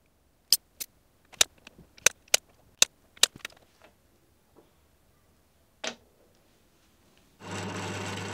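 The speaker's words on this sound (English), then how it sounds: "I cut two sections of 30mm each and drilled holes for the T-track" Drill press boring holes in two 30mm sections for T-track on a drill press table: a run of sharp, close clicks and taps, then the motor kicks in with a loud, steady whir at the end.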